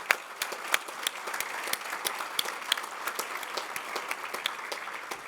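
Applause from a summit audience in a conference hall, a steady wash of many hands clapping with sharp individual claps standing out, moderately loud and continuing throughout without talk.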